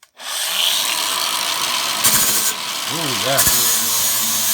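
An Aldi Ferrex 40V cordless angle grinder runs a flap abrasive disc against a workpiece, giving a steady loud whine and rasping grind with brief pitch dips as it bogs under load, and a short spoken remark.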